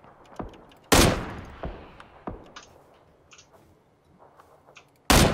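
Gunfire in PUBG (Battlegrounds), several sharp, loud single shots spaced irregularly with fainter distant pops and clicks between them.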